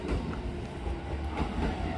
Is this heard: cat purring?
no